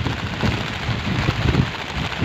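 Heavy rain in a storm pours down continuously during a fishing trip, a dense, loud rush with low rumbling beneath, and no voices.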